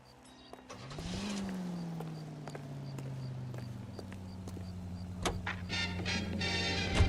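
A car in LA Noire starts and pulls away, its engine tone rising, then settling into a steady hum as it drives on, with faint tapping and clicks over the top.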